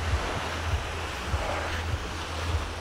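Sea surf washing onto a sandy beach in Alanya, a steady broad wash of waves with wind noise and soft rhythmic low thumps underneath.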